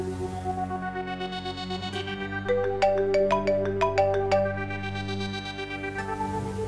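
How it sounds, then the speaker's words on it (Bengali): A phone ringtone plays a short melodic ringing tune, a run of rising tones in the middle over a sustained backing, moderately loud and alone without voices. "ফোন এতক্ষণ রিং হইলো, এখন বন্ধ কয়"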